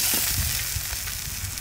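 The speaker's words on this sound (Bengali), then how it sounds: "মাছ ভাজা একদম" Pomfret fish frying in hot oil in a wok: a dense, crackling sizzle that stays loud and steady throughout, heard close up with no talking.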